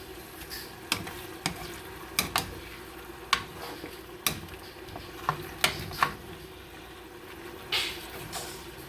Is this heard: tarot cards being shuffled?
no